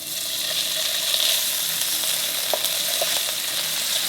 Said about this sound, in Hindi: 2 टेबलस्पून इसमें ऑयल डालूंगी पैन में। 1 टेबलस्पून बटर इसमें जाएगा। इसमें मशरूम्स डाल दें।